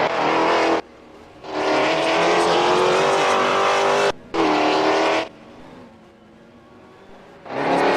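GTI race cars held at 60 mph in formation on a lakeside castle circuit pass in loud close bursts of engine and tire roar, three sweeps separated by quieter gaps and another swelling in at the end.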